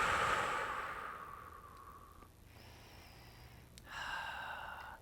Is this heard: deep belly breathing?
yes